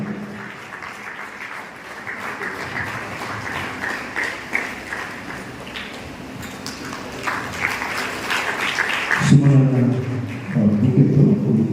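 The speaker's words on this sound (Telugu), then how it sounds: "ప్రేమతో గట్టిగా చప్పట్లు కొడుతూ ప్రభువుని మహిమపడదాం" A crowd at a Christian mass prayer gathering in Nandyal town claps in a dense, continuous patter of applause that stays loud throughout and swells toward the end.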